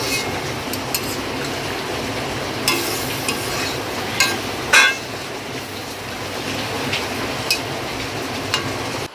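Vegetable curry cooking in a pan outdoors, a steady low sizzle and bubbling running throughout with occasional soft scrapes and clinks of a utensil against the pan, fairly close, no voices.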